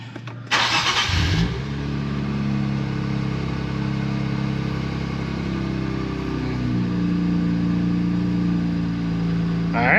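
An Infiniti Q50/Q60 engine cranks and catches, firing up loudly close by, then settles into a steady, rumbling idle for the rest of the time with a slight shift in tone near the end.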